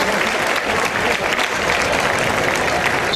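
Crowd applause for a young contestant at a village fiesta capea in Caparroso, Navarra, heard as dense, sustained clapping from many people throughout.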